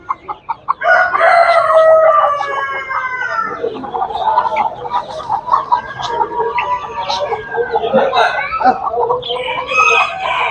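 A busy chorus of laying hens and chicks clucking and squawking close by at an animal market in Tuzla, overlapping calls rising and falling continuously, with faint voices in the background.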